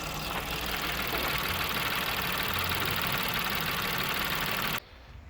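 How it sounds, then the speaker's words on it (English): Peugeot 208 1.2 petrol engine running and idling just after an oil change, a steady close mechanical hum that cuts off abruptly near the end, with no talk. "As soon as we're gonna start the engine"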